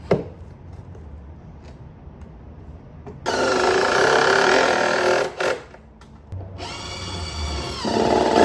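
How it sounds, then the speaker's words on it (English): A power drill drives 2-inch wood screws into a wooden workbench, giving two sustained, close whirring runs of a few seconds each, the second shifting in pitch partway through. "Right now I'm just fastening it with 2-inch wood screws."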